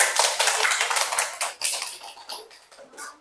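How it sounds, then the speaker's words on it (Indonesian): A classroom of students clapping, bursts of claps that start loud and dense, then thin out and fade into scattered, uneven hand claps. "Tepuk tangan dong."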